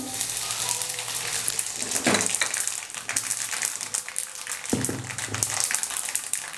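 Sesame seeds frying in hot oil alongside already-fried chillies for a tomato pickle, giving a continuous close hiss and crackle with a couple of brief stirring scrapes and no voices.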